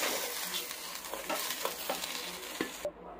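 Fragrant pulao rice for beef biryani is fried with onion, cinnamon and cardamom in a pan, producing a close, even sizzle with rhythmic scraping strokes of stirring before it cuts off abruptly, no voices.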